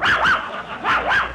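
A police dog's bark rendered as a radio comedy sound effect: two pairs of yelping, pitched barks in quick succession, close and loud, with no talk over them.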